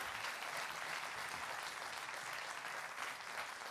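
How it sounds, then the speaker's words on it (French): Audience at the closing ceremony of the Mont-Blanc Humour Festival in Saint-Gervais applauds steadily, a dense even wash of clapping that holds at moderate level for the whole stretch. "Très applaudi par le public de Saint-Gervais."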